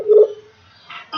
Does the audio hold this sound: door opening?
no